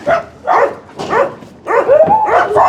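A German shepherd mix dog at a municipal animal shelter in Pavlohrad barks loudly and close, giving several quick bursts of barks mixed with whiny yips.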